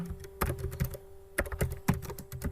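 Someone typing a letter on a computer keyboard in MS Word: quick uneven clatter of key presses, close and steady, with a faint constant hum behind.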